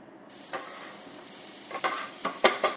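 Diced onions sizzling in olive oil in a pan on the stove, a soft steady fry broken by several stirring scrapes and louder sizzle bursts toward the end.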